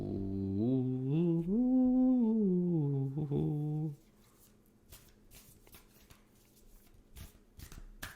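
Playing cards are shuffled by hand with quick papery riffles and soft slaps, faint and close, coming after a voice speaks and fades out.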